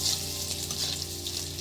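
Chopped garlic and ginger hitting hot frying spices in a pan for a cabbage dish, a loud, steady hissing sizzle throughout, close up and unbroken.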